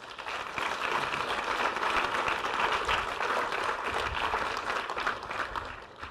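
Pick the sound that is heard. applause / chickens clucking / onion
applause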